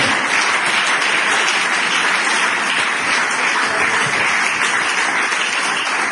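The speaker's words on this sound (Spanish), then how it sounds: "Dale fuerte ese aplauso a Jesús, hermano" Congregation at a Spanish-language church service applauding for Jesus, with dense, steady clapping from many hands that holds at full strength from start to end.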